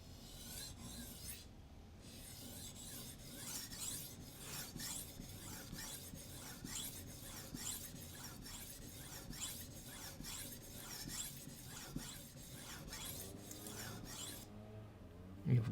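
A knife blade being drawn over a Spyderco medium sharpening stone in single strokes, a steady series of close, dry rasping scrapes with short pauses between them, while faint outdoor background noise runs underneath.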